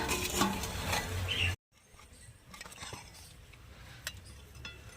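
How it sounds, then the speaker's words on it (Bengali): A spoon scrapes and clinks against a pot while scooping cooked chicken and potatoes out of a village-style chicken biryani, with soft metallic knocks and stirring sounds, a short gap, then quieter scraping. "এখন আমি নামিয়ে নিচ্ছি মাংসটা আলোটা তুলে নেব"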